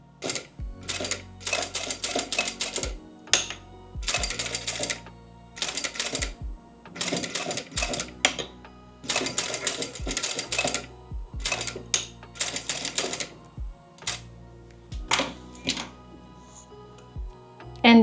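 A sewing machine runs in short, rapid bursts of dense zigzag stitching at the edge of fabric for a bustier dress, with clicks and short pauses between runs.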